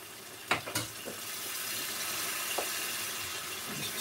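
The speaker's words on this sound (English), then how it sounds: "What we're going to do is add in another load of base gravy." Base gravy poured into a hot curry pan while cooking a pathia curry, a steady wet splashing pour with a few brief louder clatters near the start.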